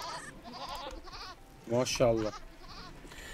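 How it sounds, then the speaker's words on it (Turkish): Goats in the RimWorld video game give a couple of short, nasal bleats in quick succession, heard under a man's ongoing speech. "Lan bunların hepsi keçi. 40 tane keçi var abi."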